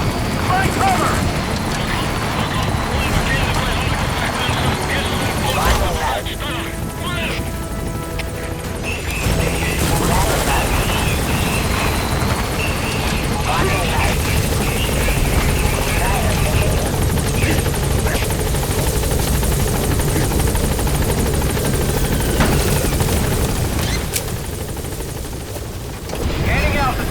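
Pequod, the helicopter in Metal Gear Solid V: The Phantom Pain, arrives into a hot zone, its loud, steady rotor roar filling the whole stretch with crashes and gunfire-like bursts mixed in and voices talking over it.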